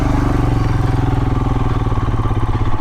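A Royal Enfield Himalayan motorcycle ridden on an off-road trail, its single engine chugging loud and close with a steady pulsing beat and clattering, no voices.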